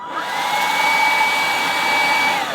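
A Milwaukee M18 cordless leaf blower runs steadily on its low setting, a continuous close whooshing motor-and-air hum with a faint whine that holds level for the whole stretch, no voices.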